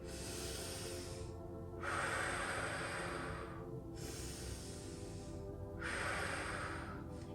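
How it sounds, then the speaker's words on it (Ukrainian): Slow, paced breaths for a square breathing exercise: audible airy inhales and exhales alternate in long, even phases, close and quiet, with no talking. "На вдих, на видих ми уявляємо, що ми дихаємо по квадрату."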